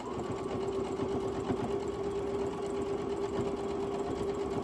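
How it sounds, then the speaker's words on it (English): A sewing machine back stitches fabric for a makeup brush roll, running as a loud, steady, continuous whir from nearby with no pauses and no talking. "move to your next line, back stitch, and then straight up the line."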